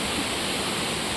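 Water of the Saptagundala (Mitte) waterfall spilling into a pool and around rocks, a steady full-band roar heard up close and without interruption, with no voices.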